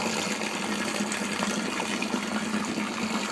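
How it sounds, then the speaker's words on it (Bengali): Water gushing steadily into a big bucket holding a large load of clothes and detergent powder, a continuous dense close rush with no pauses and no talking. "এটা অনেক বড় বালতি, যেহেতু অনেক জামা কাপড় সবটা ভিজিয়ে দেবো।"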